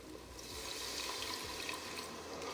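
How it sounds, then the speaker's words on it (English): Broth is poured into a browned gravy paste for pot pie, a soft, steady splashing stream heard close up and faint, with no talk over it. "I'm going to go ahead and pour my broth in there."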